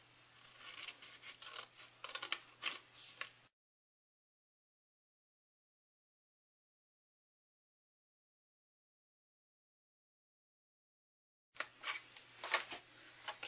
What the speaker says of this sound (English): we're going to go ahead and cut on our score lines